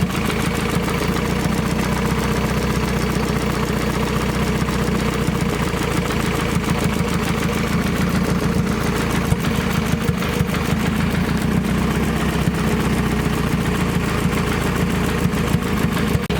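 Car engine idling after an eBay turbo, a ball bearing turbo from Maxpeedingrods, and upgraded cams are installed, the exhaust not yet hooked up. A loud, steady lumpy idle with a faint knocking rhythm runs close and unbroken, with no voices.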